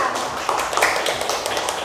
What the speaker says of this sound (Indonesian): Oke, kelompok A, tepuk tangan semuanya.